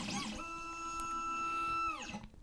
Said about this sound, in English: we'll fire the machine up here